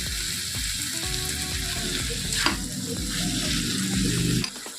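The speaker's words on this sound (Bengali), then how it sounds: "ওইটা দিতে থাকবো, এটা কষতে থাকবো যতক্ষণ না পুরোপুরি তেল না ছেড়ে আসছে।" Masala sizzles and fries steadily in a hot pan while a spatula stirs and scrapes through it, with a continuous close crackle and no talk.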